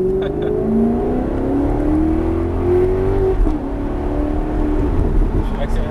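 Maserati GranTurismo S engine revving and accelerating on a driving course, a rising, steady tone over several seconds with a person talking over it.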